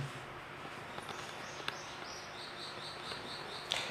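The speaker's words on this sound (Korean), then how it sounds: "아침에 새소리가 계속 들리니까 산속에 들어와 있는 것 같아갖고" Birds chirp in short repeated phrases during an early-morning outdoor prayer gathering near mountains, faint and steady over a quiet background hiss.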